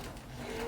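A JUKI sewing machine runs steadily, stitching quilted fabric for a kitchen mitt; a continuous low mechanical hum with a faint whine, quiet and close, with no talk.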